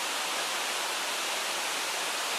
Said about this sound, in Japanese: いやいい滝だ